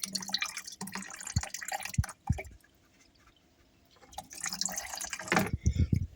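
Water runs and drips at the feed line of a reverse osmosis filter, trickling in bursts that stop briefly midway before resuming, with some talk alongside.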